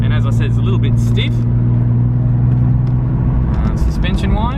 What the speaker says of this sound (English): So the exhaust's a bit boomy on this